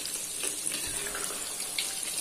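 Tofu half-fried in hot oil for a turmeric tofu soup, giving a steady, dense hiss and crackle of oil throughout with small pops here and there, close and moderately loud, with no voices.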